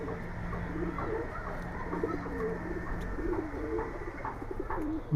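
Pigeons in a Keraniganj loft give repeated soft, throaty coos that overlap in a steady rhythm, close by, over a low background hum.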